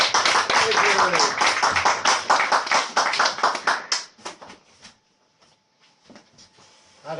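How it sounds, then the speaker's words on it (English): An audience at a poetry reading claps for poet Andy V. Frost in a loud burst of dense applause that thins into scattered claps and fades to near silence after about four seconds. "can we have a big round of applause, please, for Andy V. Frost?"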